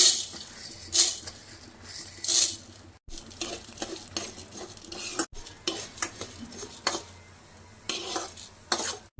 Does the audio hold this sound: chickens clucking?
no